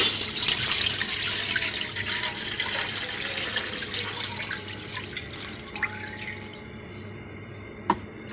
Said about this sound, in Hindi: 3 बाउल पानी डालेंगे।